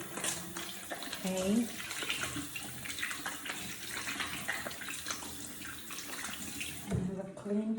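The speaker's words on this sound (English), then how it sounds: "Usually, I go ahead and wash my hands, wash really good." Tap water runs steadily into a sink while hands are washed, a continuous close splashing hiss with a brief word spoken over it.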